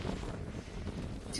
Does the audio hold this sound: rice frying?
no